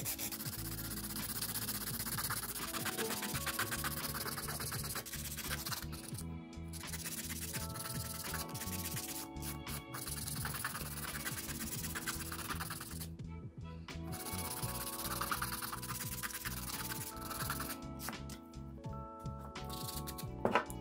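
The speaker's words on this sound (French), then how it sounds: "je vais déjà venir raccourcir mon ongle à la longueur souhaitée" A gel fingernail being filed shorter by hand, giving close, steady rasping strokes in a continuous scratchy rhythm for the whole stretch, with no talking.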